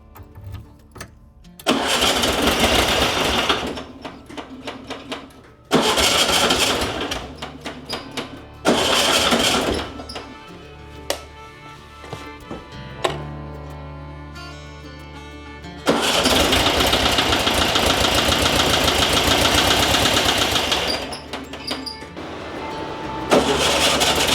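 A 1964 VW Bug engine with a freshly rebuilt carburetor cranks and catches several times, running loudly and close for a few seconds at a time before cutting out, with quiet pauses between attempts.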